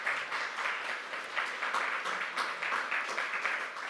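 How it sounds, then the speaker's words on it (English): Audience applause at a labor program closing ceremony, a steady dense patter of many hands clapping at moderate level throughout, with no voices over it. "I just give yourself a round of applause."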